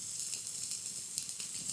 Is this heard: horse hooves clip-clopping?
no